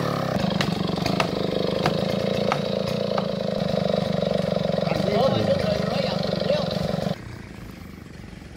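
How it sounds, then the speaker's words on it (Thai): A farm tractor engine chugs steadily and loudly at close range, labouring as it pulls a log, then cuts off abruptly near the end; a voice speaks over it. "นี่นะครับดึงด้วยรถไถนะ"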